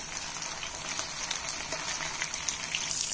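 Honey garlic chicken pieces fry on a medium flame, a faint, even hiss with soft scattered pops that continues steadily without any voices.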